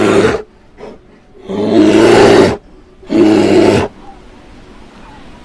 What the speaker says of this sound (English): Bear roars, and he rumbles.